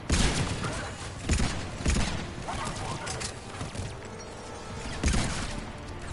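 Gunfire crackles through Mass Effect 3 combat: loud, close bursts of shots and impacts in irregular clusters, with a brief lull before another heavy volley near the end.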